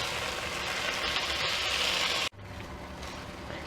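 Marinated chicken sizzles loudly in masala in a pan on a gas stove, a dense frying hiss that is cut off sharply and then continues more quietly while it is stirred.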